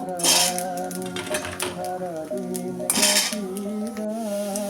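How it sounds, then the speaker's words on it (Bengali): Potatoes, beans, peas and spinach stalks tumble into a cooking pot for an oil-free winter vegetable dish, making two loud clattering bursts over a steady musical backdrop. "এখানে যে আলু বিনস আর এই মটরশুঁটি এবং পালং শাকের ডাটটা আছে সেটা আমি এখন দিয়ে দেবো"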